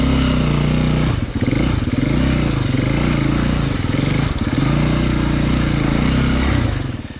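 A KTM 250 EXCF four-stroke enduro motorcycle engine runs steadily while being ridden on wide Colorado trails, producing a loud, continuous mid-range drone that dips briefly a few times before rising again, with no talk.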